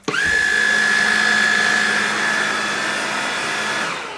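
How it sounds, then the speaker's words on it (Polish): A household vacuum cleaner, started with a single button press, switches on with a sharp onset and then runs as a loud, steady whining drone up close for several seconds. "tutaj tylko załączasz i on sam już odkurza"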